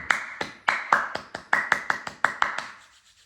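Hand clapping during a yoga exercise session: about a dozen sharp, separate claps in a steady rhythm, close and fairly loud, fading out at the end with no talking.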